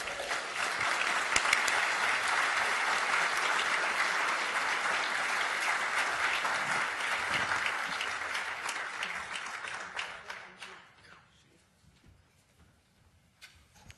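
Sustained audience applause welcoming Governor Gray Davis at the SCAG Economic Summit, a dense crowd clapping loudly for about ten seconds before thinning out and fading to scattered claps.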